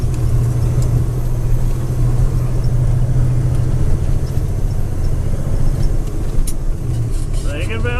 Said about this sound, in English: Top of the big steep, tanker coming in.